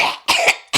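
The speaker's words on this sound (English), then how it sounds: "gloating makes me cough" A person with COVID coughs three times in quick succession, close and sharp, with short gaps between the bursts.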